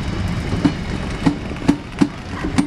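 Freight wagons from a Freightliner terminal rolling past, with a steady rumble and a run of sharp, evenly spaced clickety-clack wheel thumps roughly every half second.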